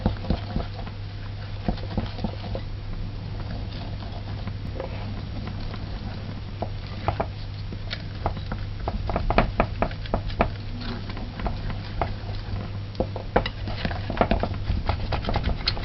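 A spoon stirs marble cake batter in a bowl, soft repeated wet patting and clinking strokes at close range, steady throughout with a low background hum.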